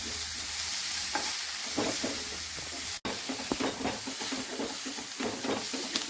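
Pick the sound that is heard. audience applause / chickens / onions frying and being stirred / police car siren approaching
onions frying and being stirred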